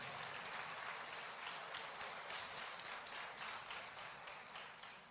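Steady, sustained clapping from a church congregation during a Portuguese-language teaching session, a full room of hands beating in loose rhythm that holds level for several seconds before tapering slightly.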